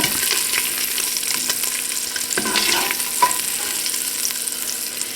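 Kielbasa sizzles steadily in a frying pan while being stirred and lifted out, with close scraping and clinking over a constant crackling fry and no voices.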